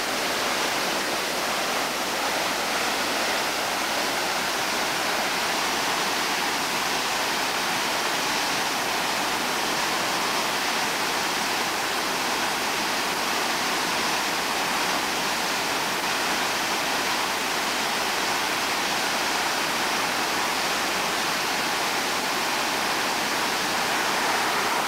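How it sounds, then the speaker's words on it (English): Whitewater rapids on the North Fork Payette River rush in a loud, continuous roar of churning water that stays steady and unbroken throughout, with no voices. "Hell of a big piece of water here. Huge piece of water."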